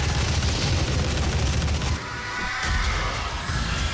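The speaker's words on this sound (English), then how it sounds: "Lock on with the rockets." Rockets launching in a frantic shooter, a dense roaring barrage for about two seconds, then a brief drop before more whooshing blasts and booms, loud and continuous.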